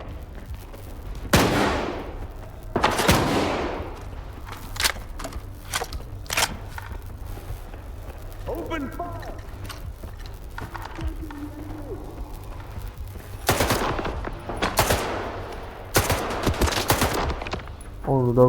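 Bursts of automatic rifle fire and single shots from the video game STALKER 2 crack loudly in several clusters, with quieter in-game sounds between, and a player talking in places.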